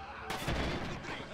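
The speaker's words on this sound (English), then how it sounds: "all I hear is machine gunner over there, over there, machine gunner" Dense machine gun fire from a battle in Red Orchestra 2 crackles loudly and continuously in a short burst, with heavy booming gunfire layered throughout.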